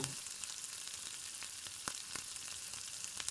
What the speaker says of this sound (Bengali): ভালো করে গরম করে নিয়ে গ্রেট করে রাখা গাজরগুলো আমি দিয়ে দেব এবং 5 থেকে 7 মিনিট মতন ভাজবো